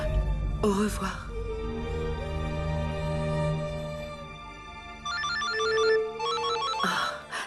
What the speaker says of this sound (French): Ah, c'est mon téléphone.